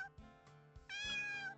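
A cartoonish digital cat meow from the video game Terra Incognita, one clear, close tonal call rising and holding briefly over soft background music.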